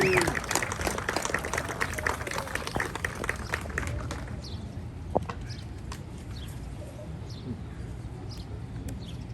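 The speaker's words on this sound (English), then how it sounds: "if we can get a round of applause for him" A homecoming ceremony crowd gives a round of applause; dense clapping is loud at first, then thins out and fades to scattered claps and background murmur within a few seconds.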